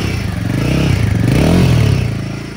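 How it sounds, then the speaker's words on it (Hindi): A Royal Enfield Himalayan 450 motorcycle at a showroom revs up loudly and close by. The engine climbs to a strong peak near the middle of the burst, then eases back in a single steady throttle blip. "नोट सुना दो भाई, एक्सलेट कर दो,"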